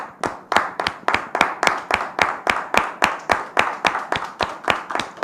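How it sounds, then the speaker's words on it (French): An audience welcoming a visiting guest claps in a steady, unified rhythm of sharp, evenly spaced claps that run for several seconds, close and clear, with no talking over it. "Sous vos applaudissements, s'il vous plaît."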